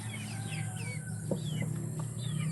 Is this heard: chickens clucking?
yes